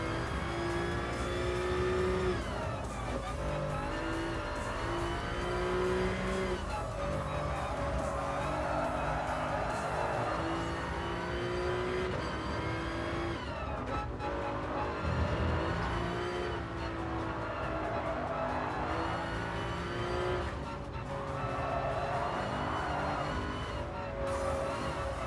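A Toyota GR Supra Concept with manual transmission on soft racing slicks is driven hard in Gran Turismo Sport, engine revving and shifting through gears continuously, with tire squeal on corners and no voices.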